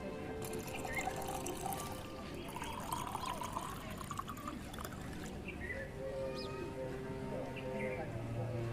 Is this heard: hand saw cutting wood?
no